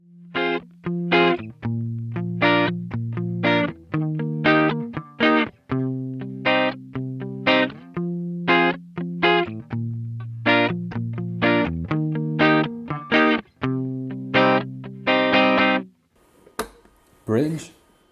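A 2008 Gibson Explorer electric guitar plays clean rhythm chords on the neck pickup, with rhythmic strummed hits and ringing sustain across about fifteen seconds before a short pause and a few scratchy string noises.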